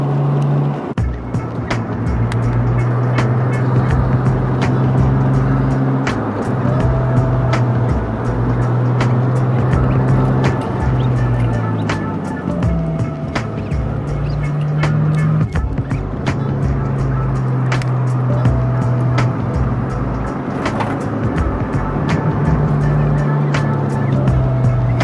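JDM cars, including a Mazda RX-7, cruise along a road, with a steady engine drone rising and falling in pitch through gear changes, accompanied by road and wind noise, close and continuous.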